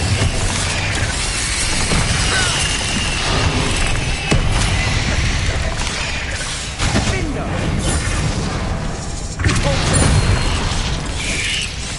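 Incendio fire spell in Hogwarts Legacy, a dense burst of crackling fire and booming impacts that runs loud and continuous, with sharp cracks and crashes layered on top.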